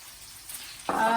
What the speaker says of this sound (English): So now the onions have been frying in here for a while, for about 2 or 3 minutes